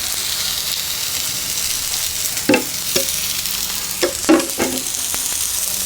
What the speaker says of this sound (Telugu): ఒకసారి తిరగేస్తాను చక్కగా ఇటు కూడా ఫ్రై అయ్యిద్ది కదా వేస్తున్నా కొంచెం ఆయిల్ వేస్తాను